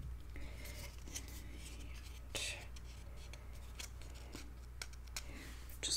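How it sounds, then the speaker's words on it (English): Quiet, intermittent snips of scissors trimming paper for a mini album, a few crisp clicks spread over several seconds against a low steady background hum. "I'm going to grab my scissors."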